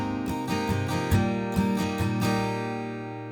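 Steel-string guitar strummed in a lilting 3/4 waltz pattern through a chord progression, steady and close with ringing chords and accented downbeats, no voice.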